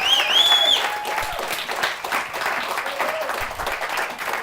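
A church congregation applauding the Lord during a sermon by Bishop Prince Hampel, a dense burst of clapping that stays loud and then thins slightly, with a few voices and a brief whistle-like tone near the start.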